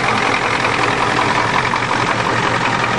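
A Ford diesel truck running with no exhaust system or muffler after sitting two months, a steady, fairly loud rumble close by with no change in pace.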